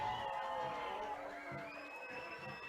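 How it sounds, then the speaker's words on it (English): A crowd at a high school semifinal football game roars and cheers steadily as the players take the field, with shouts and whoops rising through the noise. "And now they will come out to the cheers of the crowd"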